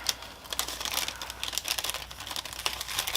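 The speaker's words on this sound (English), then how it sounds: "Wrap it up in this wax paper here." Wax paper crinkles and rustles continuously as it is wrapped around a glitter tumbler coated in wet Mod Podge, close and fairly quiet, with dense crackly bursts and no talking.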